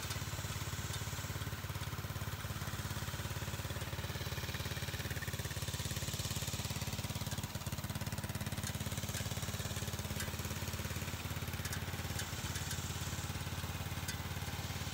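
Small gas engine idles steadily on a Club Car DS golf cart converted from electric, with a backwards-mounted clutch and no muffler yet; a continuous, fairly quiet low putter runs alone throughout.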